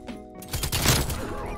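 An RPD light machine gun fires in Call of Duty: Cold War, a short loud burst of rapid shots swelling after a brief quiet start and trailing off within under two seconds.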